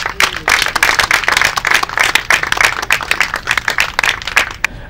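A congregation at a wedding ceremony in Cedar Rapids, Iowa, breaks into sustained applause: dense, steady clapping from many hands that fills the space for the full stretch, with scattered sharper claps standing out near the front.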